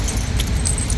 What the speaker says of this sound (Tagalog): Nakuha ko na yung susi.